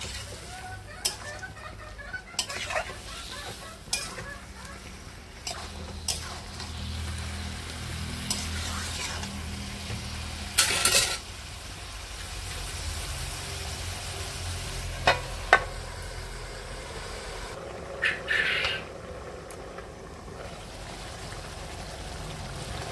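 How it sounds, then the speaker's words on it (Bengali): Mutton pieces sautéed and stirred in a pan for a Bengali-style curry, with a low steady sizzle and occasional scraping stir strokes; faint clucking chickens are heard in the background. "মাংসগুলোকে এখন আমি আস্তে আস্তে আঁচ দিয়ে"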